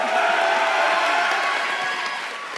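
A school debate audience applauds and cheers as a speaker is invited up, a dense sustained wash of crowd noise that holds steady and slowly fades, with no speech over it.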